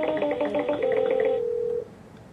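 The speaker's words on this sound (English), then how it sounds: "To call them back, simply press the dial soft key." Dialing tones from a Polycom IP conference phone, a quick run of short touch-tone beeps followed by one steady held tone that cuts off, clear and close with no talk.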